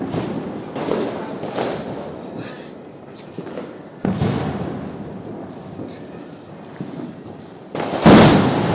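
Big firecracker bombs bursting during Diwali celebrations, with sharp loud blasts near the start and end and another around the middle, over a busy outdoor crackling backdrop while people talk.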